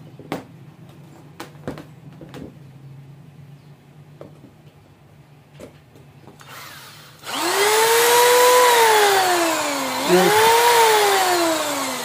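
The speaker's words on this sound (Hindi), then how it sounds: "तो आज हम लाए हैं डिवोल्ट की ड्रिल" A DeWalt 13mm heavy-duty drill with copper winding: a few scattered clicks and taps, then the motor starts with a loud, steady, high whine that dips briefly and recovers as it keeps running close by.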